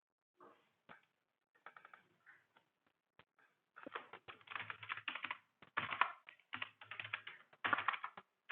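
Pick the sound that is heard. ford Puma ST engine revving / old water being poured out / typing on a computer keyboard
typing on a computer keyboard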